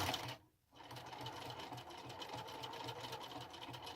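Sewing machine zigzag-stitching T-shirt yarn, a steady fast mechanical whirr with a brief stop near the start, then running on evenly, faint and close.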